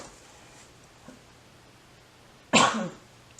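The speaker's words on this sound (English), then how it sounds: "so now I got a cough, a little bit of a runny nose" One short, throaty cough breaks a quiet stretch, close to the listener.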